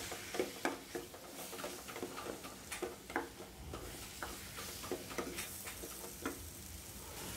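Spices and green chillies are stirred and sautéed in a pan for tomato rice, giving soft irregular scrapes and taps of a utensil over a quiet sizzle, close and faint, with no talk.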